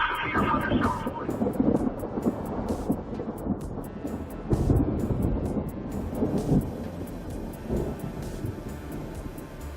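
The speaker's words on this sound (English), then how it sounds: "the rain was just pouring down in buckets" Steady heavy rain roars throughout a severe thunderstorm, with rumbling thunder and bursts of loud noise rising over the downpour.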